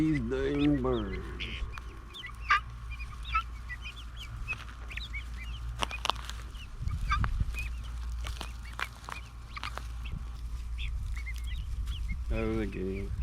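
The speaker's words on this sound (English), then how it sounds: "Herding these dang birds." Chickens, ducks and guinea fowl on a farm cluck and quack while being herded, scattered calls close by over a low rumble, with a person speaking at the start and end.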